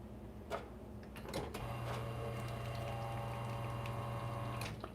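A Quick Mill Vetrano 2B Evo espresso machine flushes water through its group head: a steady pump drone with rushing water starts after a couple of clicks and holds evenly for about three seconds before cutting off.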